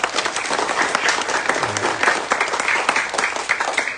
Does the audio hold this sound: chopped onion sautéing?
no